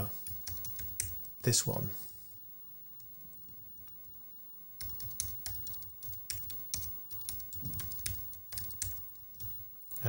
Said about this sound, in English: let me type in the user's details